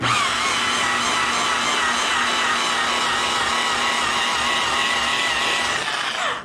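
A rotary buffer running at about 1,000 RPM polishes orange-peel texture out of paint, a loud, steady whine and hum that holds throughout and cuts off at the end, with no voices.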